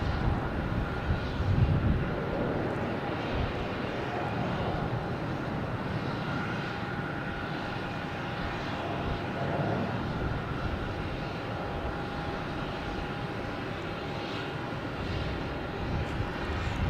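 Jet airliner taking off at night at Boston Logan Airport, a sustained distant roar with broad rumble that swells and eases over many seconds, heard alone without talk.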